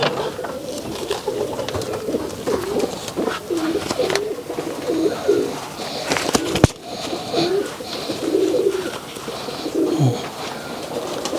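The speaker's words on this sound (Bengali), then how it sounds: "আচ্ছা এটা খয়েরি কালার আনকমন সচরাচর পাওয়া যায় না নর কবুতর এটা" Rajshahi Giribaz pigeons coo close by in a loft, repeated soft rolling coos in short phrases throughout, with a brief sharp clatter near the middle and some quiet talk.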